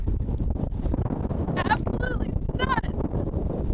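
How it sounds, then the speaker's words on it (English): Strong wind roars and buffets steadily around a parked RV on Scotland's North Coast 500, with a few brief higher tones cutting through the rumble. "Just to show you guys how windy it really is outside here."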